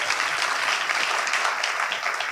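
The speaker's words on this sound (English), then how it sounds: "Give them a round of applause." Audience applause for a high school media program at an awards evening, a dense, steady wash of clapping from a crowd lasting throughout.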